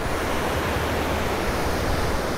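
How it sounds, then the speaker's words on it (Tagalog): A constant, loud roar of big waves crashing on a beach in Real, Quezon, Philippines, broad and unbroken, with no voices over it. "grabe lalaki ng mga alon dito"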